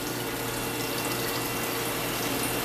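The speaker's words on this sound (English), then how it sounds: "my sink filling up with ozonated water" Water from a commercial compact ozone water generator pours steadily into a sink, making a constant loud, broadband rushing hiss that does not change throughout.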